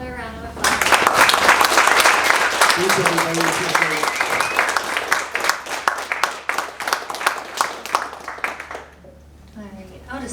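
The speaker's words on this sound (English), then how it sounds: "Let's give another round of applause." Audience applause after a tech talk on patents, dense clapping rising quickly and holding for several seconds before thinning out, while a speaker briefly says a few words over it.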